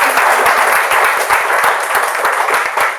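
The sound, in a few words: audience applause for the judges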